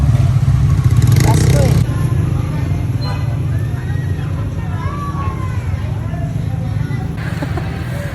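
Busy road traffic in a Philippine street setting, with motorcycle and car engines rumbling steadily and close by under constant crowd hubbub, and people talking throughout.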